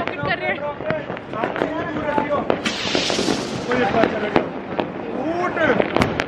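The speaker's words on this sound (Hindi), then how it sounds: "यहाँ पे मामा वगैरह थोड़े बहुत पटाखे कर रहे हैं" Firecrackers and fireworks go off from a rooftop during Diwali, with rapid sharp cracks and pops, whistling rockets and a fizzing burst, moderately near, while people talk throughout.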